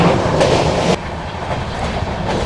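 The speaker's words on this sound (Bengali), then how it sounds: "ধানবাদ থেকে ট্রেন আমাদের ছেড়ে দিল এবার ননস্টপ 3 ঘন্টা চলবে" The Sealdah–Jammu Tawi Humsafar Express runs at speed, its wheels beating a steady clickety-clack over a loud, continuous rumble, with a sharp drop in level partway through as the surroundings change.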